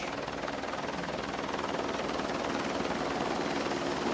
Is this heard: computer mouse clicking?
no